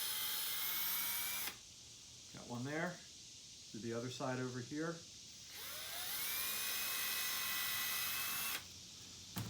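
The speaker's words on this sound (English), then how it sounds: "I'm going to drill a hole into each of these right up here." A small power drill bores holes in a craft piece for a haunted head light, making two loud, high, whining bursts with a short pause between them, while a voice speaks briefly in the gap.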